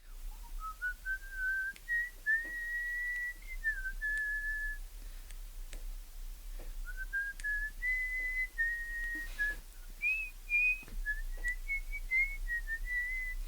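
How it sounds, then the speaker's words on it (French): Someone whistles the tune of a song alone, a clear, steady melodic line with gliding phrases running continuously close to the listener. "tu siffles bien"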